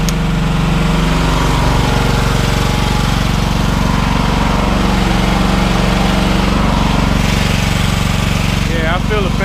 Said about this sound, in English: It sounds just like a riding mower, lawnmower.